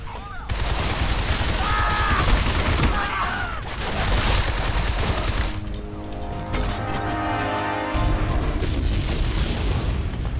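Grenade receptacles in the video game Shadow Complex Remastered burst in a loud, sustained run of overlapping explosions and crackling gunfire-like blasts, filling the whole stretch with dense, booming chaos.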